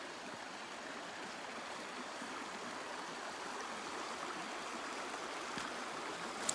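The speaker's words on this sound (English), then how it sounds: "And the water wraps around these rocks." Stream water flows steadily around big rocks, a constant close rushing and bubbling with no voices.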